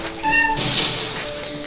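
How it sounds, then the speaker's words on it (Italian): A heavy 13 kg domestic cat meows loudly and insistently, a close, drawn-out, shrill cry rising and then tapering over under two seconds, sounding like a tiny kitten. "13 kg di gatto e urla come un gattino di 3 giorni"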